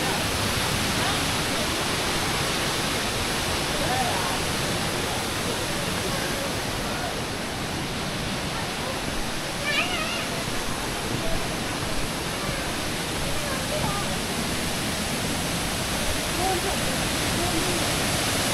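Kempty Falls waterfall in Mussoorie roars steadily and loudly from start to finish, a dense, unbroken rush of falling water with no pauses.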